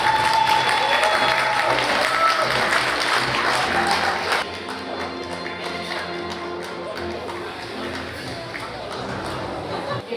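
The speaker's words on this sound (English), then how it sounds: "Let's give her a big round of applause." Dense applause from a gala audience fills the first four seconds loudly, then drops to a softer, steady clatter of clapping with voices in the room.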